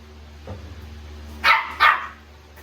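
A two-month-old Rottweiler puppy at a pets and livestock market gives two sharp, close barks in quick succession, with a faint earlier yip and low background hum.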